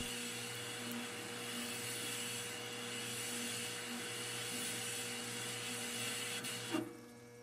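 A metal lathe cuts grooves into a solid metal chunk for a model boiler build. A steady mechanical whir and motor hum run throughout, with a brief clunk near the end.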